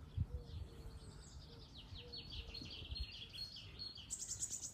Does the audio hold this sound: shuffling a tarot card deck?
no